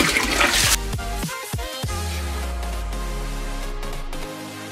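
Aquarium filter sponges squeezed and released by hand in a small bucket of water, giving steady close sloshing and gurgling water with a few splashy squelches, no talk.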